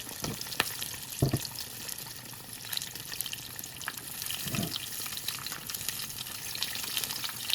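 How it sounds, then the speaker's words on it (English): Fish shallow frying in a pan gives a steady close hiss and crackle of hot oil, with a few soft knocks from handling the pan. "Should only be a few minutes each side because we're doing the shallow fry."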